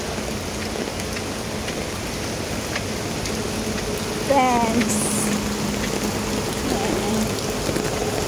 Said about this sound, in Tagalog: Heavy raining po ngayon.